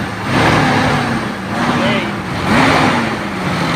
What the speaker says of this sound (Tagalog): i-rev natin kung mayroong talsik, may usok